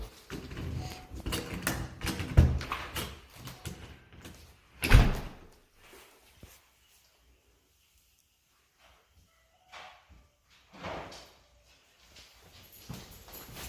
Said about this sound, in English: We'll open the front door.